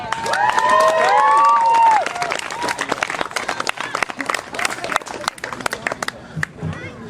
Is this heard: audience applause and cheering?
yes